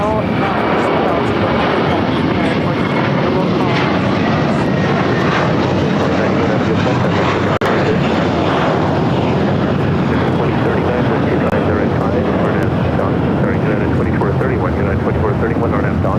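A jet airliner roars loudly and continuously on takeoff from runway 25 right at LAX, a broad engine rumble filling the whole stretch without a break.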